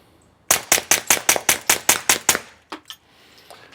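Rapid string of about ten gunshots, a full magazine dumped in quick even succession, loud and close, followed by two lighter shots or clanks and then quiet.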